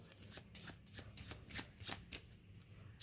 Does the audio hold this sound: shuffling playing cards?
yes